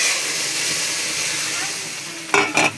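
Mung dal being tempered with radhuni seeds and dried red chilli in hot oil, a steady close sizzle and hiss that flares into two brief louder bursts near the end.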